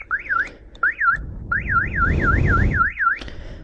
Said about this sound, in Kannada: ಪೊಲೀಸ್ ಸೌಂಡ್ ಬಂದಂಗೆ ಬರ್ತೈತಿ